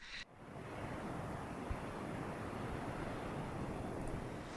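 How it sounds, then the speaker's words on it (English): Small waterfall on Huntington Ravine Trail on an early winter day, a steady broadband rush of falling water, fairly close, with a short knock at the start. "we're just going over that beautiful little waterfall there"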